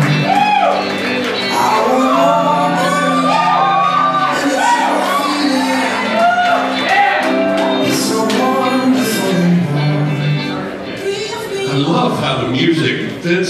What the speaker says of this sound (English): Give it up for Justin